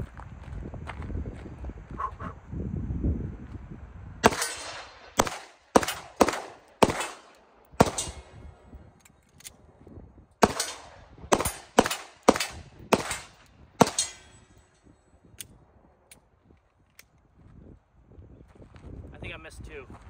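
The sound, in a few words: pistol gunfire during a shooting test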